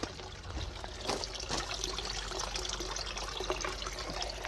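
Water trickles steadily from a small garden fountain set among zucchini plants, a soft continuous splashing wash heard close and alone.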